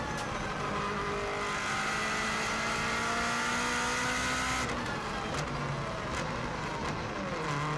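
A 2016 Subaru WRX STI is driven flat out on the Isle of Man TT road course, its engine droning steadily with rising harmonic tones, then shifting pitch sharply as the car drops gears into a hairpin.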